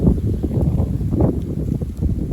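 Strong gusts of south wind during a brief snowfall buffet the microphone in a steady low roar that surges and dips, with no one speaking.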